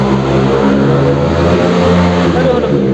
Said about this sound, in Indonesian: Suara motor lur